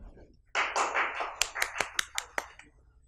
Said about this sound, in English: So everybody please give a round of applause for Dr.